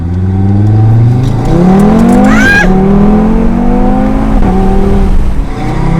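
A 2021 Audi TT RS fitted with a downpipe and midpipes accelerates hard, its engine rising loudly through the revs with a gear change partway through and a rising whine, heard close from inside.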